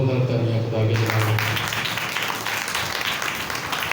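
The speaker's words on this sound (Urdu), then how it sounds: "زوردار تالیاں خدا کے نام" A church congregation bursts into loud, dense applause after a short stretch of a speaking voice, the clapping steady and sustained for several seconds.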